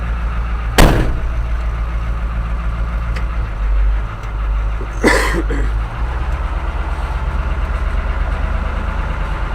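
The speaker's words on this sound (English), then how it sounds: "this is a 1978 Ford 7000 truck, Louisville series." A 1978 Ford 7000 Louisville series truck engine running near a cattle pen, a steady low idle rumble throughout with two brief sharp bangs or clanks rising over it.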